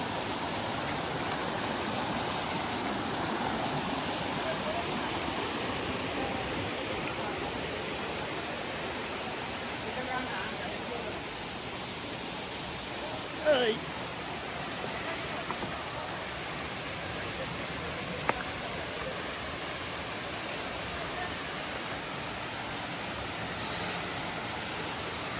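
Kongala waterfall roars in a steady, broadband rush of falling water heard close by, continuous throughout with a couple of brief faint knocks and no voices.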